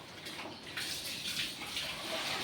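Blankets being washed by hand for a festival, with a steady wash of sloshing, splashing water running continuously and fairly close, no voices.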